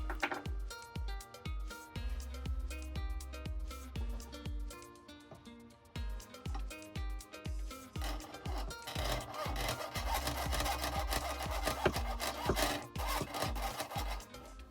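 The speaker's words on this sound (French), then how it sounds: "Puis le sciage de la forme au boc-fil." A jeweler's saw (bocfil) cuts a shape out of silver sheet for an earring, with steady, rhythmic rasping strokes up close that grow denser and louder toward the end.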